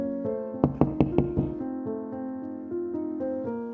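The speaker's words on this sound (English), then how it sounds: "Tommy knocked the door excitedly" Four quick, sharp knocks land on a door, evenly spaced and close, over a sustained musical drone with no speech.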